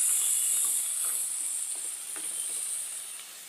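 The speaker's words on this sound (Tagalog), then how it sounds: "Lagay na natin yung kalabasa guys para maluto na siya." Sizzling and stirring in a pot of coconut-milk mung bean stew as squash pieces go in, a steady close hiss with faint scraping and clinks, no voices.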